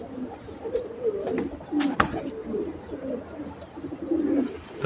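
Pigeons coo in soft, low, rolling calls, several birds overlapping close by, with a brief sharp knock partway through.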